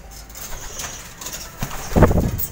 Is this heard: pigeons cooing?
yes